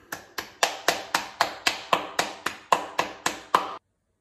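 One person clapping in a steady rhythm, about fifteen sharp claps close up, then silence.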